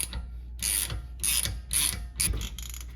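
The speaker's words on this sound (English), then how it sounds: "I have my Allen key socket here attached to like a U-joint kind of thing on my ratchet" A ratchet fitted with a 7mm Allen key socket on a U-joint clicks through several short bursts of rapid pawl ticking, close and crisp, while brake caliper bolts are removed from a 10th-gen Honda Civic Si.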